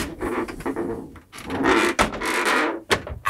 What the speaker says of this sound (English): Just close these bifold doors,